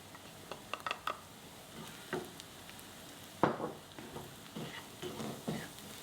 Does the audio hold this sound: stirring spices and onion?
yes